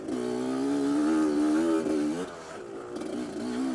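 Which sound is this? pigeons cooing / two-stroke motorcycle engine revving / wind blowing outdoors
two-stroke motorcycle engine revving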